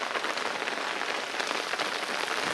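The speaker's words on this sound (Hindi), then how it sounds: "बारिश हो रही है बहुत तेज़" Heavy rain falls hard and steady, a dense, unbroken hiss of drops hitting surfaces close by, with no other sound breaking through.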